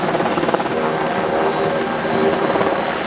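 An MH-60R Seahawk naval helicopter, weighing over 10 tons, flies nearby with a loud, continuous rotor thrum and turbine whine that hold steady throughout.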